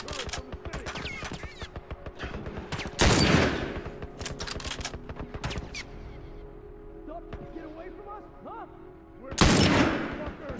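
Rapid gunfire fills a firefight in The Last Of Us, with dense volleys of shots and two heavier blasts standing out, while a player talks over the action.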